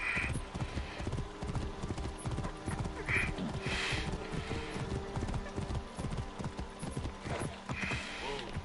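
A horse trots in the Assassin's Creed Origins video game, its hooves clip-clopping in a steady, fairly close rhythm, with occasional snorts and a short whinny layered over the game's ambient sound.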